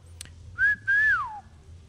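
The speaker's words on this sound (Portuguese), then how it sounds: "É o assobio de corte, que é assim" A person whistles a two-part courtship call, a sharp rising note followed by a longer tone that slides downward, clear and close.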